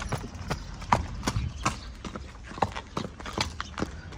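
A young mare being walked on a lead, hooves clip-clopping in a steady rhythm of distinct close footfalls on firm ground, with no talk.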